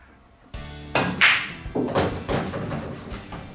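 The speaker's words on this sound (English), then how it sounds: "Straight in, got the angle on the two to just roll up for the three in the corner." Pool balls knock together on a table, a sharp clack followed by softer rolling thumps as the three ball runs toward the corner pocket, close and clear with no talk.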